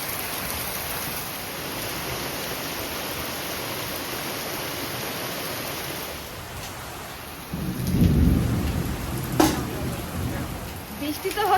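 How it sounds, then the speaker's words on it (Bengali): Heavy rain pours steadily outdoors, a dense continuous hiss, and midway a deep rolling rumble of thunder swells and fades, with a sharper crack shortly after as the downpour keeps going. "বৃষ্টি হচ্ছে সকাল দিয়ে একদম"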